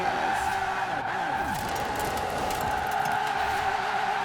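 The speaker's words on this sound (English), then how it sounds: "I think I'm accidentally drifting a lot" Tires of a Lamborghini Veneno skidding as it drifts in Forza Horizon 4, a continuous loud squeal over steady engine drone, warbling as the car slides.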